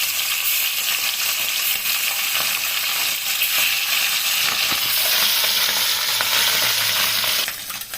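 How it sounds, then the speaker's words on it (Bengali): Tangra catfish frying in hot oil for a Bengali fish chorchori, a loud, dense sizzle and spatter running close and continuous, easing slightly at the very end. "এখন ট্যাংরা মাছগুলো ভাজবো।"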